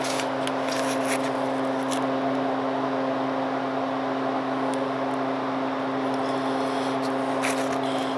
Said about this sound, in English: Excuse the noise, that's my garage heater.